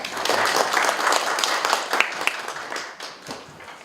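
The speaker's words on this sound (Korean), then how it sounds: "박수로 맞아주시기 바랍니다." Audience applause at a Korean clinical research workshop welcoming the institute director, a dense burst of clapping that gradually thins and fades over a few seconds.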